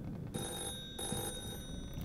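A faint electronic telephone ring in a horror video game, a steady trilling tone that cuts in and out twice over dim background ambience.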